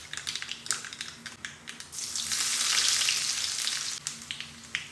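Onion pieces and mustard seeds fry in oil in a pan, a steady crackling sizzle with scattered pops that swells louder through the middle before easing back to sparse spitting.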